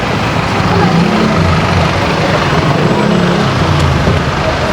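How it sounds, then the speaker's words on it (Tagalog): Dense road traffic in the Philippines: a steady, loud rumble of cars, trucks and buses close by, continuous throughout, with indistinct voices mixed into the noise. "Traffic."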